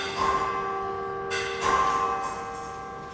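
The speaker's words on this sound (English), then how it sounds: "The bells are ringing" Bells ring in a bell tower, two clear struck tones with long sustained, slowly fading resonance, heard fairly close and alone.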